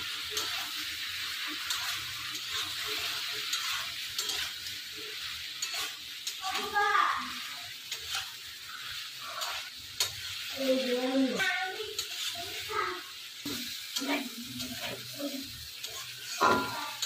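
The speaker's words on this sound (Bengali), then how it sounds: "এখন দিয়ে দেবো পনির, ভালো করে নেড়ে নেব" Paneer being stirred through poppy seed paste and water in a hot pan, with soft scraping and a low sizzle over steady background noise, and brief bits of talk in between.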